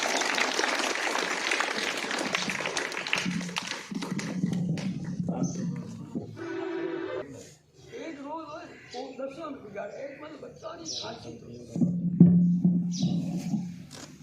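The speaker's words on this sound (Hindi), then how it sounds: "इनके लिए ताली बजाकर इनका अभिनंदन करें" An audience at a school speech event applauds to welcome the twelfth-grade students, with clapping heard at the start and again near the end, and a speaker talking in the middle.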